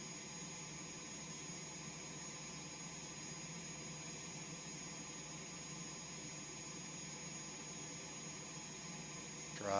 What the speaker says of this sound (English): All right, now we're on the takeoff.